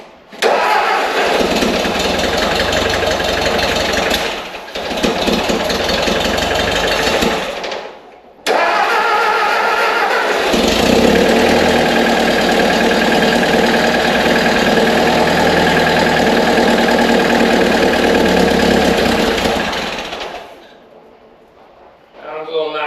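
An old engine, abandoned for years, cranks and catches, then runs loud and rough with a knock, cutting out briefly and restarting before dying away near the end; voices speak over it.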